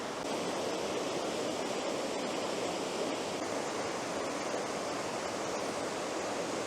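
River water rushes over rocks in a constant, even broadband hiss and roar that stays steady throughout, close by and alone, with no voices.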